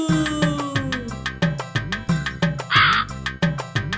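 A single harsh crow caw rises above a bouncy, rhythmic children's nursery rhyme music track with steady beats throughout.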